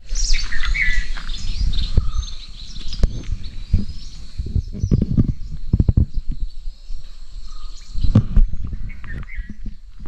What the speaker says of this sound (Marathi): पूर्ण पक्ष्यांचा किलबिलाट आहे, चिमण्यांचा वगैरे